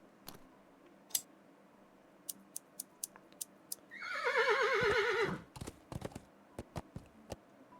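Horse neighing in the adventure game Willy Morgan and the Curse of Bone Town: one clear, fairly close whinny lasting about a second, set among scattered sharp clicks and ticks against a quiet background.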